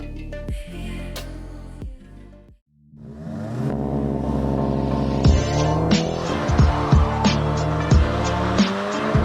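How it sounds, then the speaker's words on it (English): A 2024 Mini Cooper SE electric car launching and accelerating hard: loud squealing tyres and a rising electric whine with engine-like tones, then a sustained, buzzing drive sound with clunks and scrapes as it picks up speed. "this will give us a glimpse of what saving the planet feels like as we take it for a drive, launch it"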